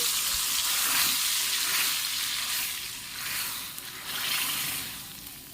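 Spices tempering in hot oil for dal, a loud, steady, airy sizzle that swells and eases in waves, with a faint thud near the start and no voices.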